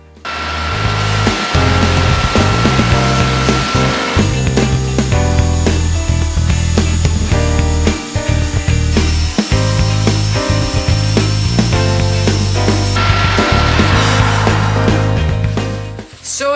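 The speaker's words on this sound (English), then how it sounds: "I'll take some of this oil, shoot it on all over, douse it, and turn on the lathe" A wood lathe spins steadily while oil finish is rubbed onto a turned wooden rolling pin, giving a continuous loud machine hum with shifting rubbing tones over the whole stretch, no voices.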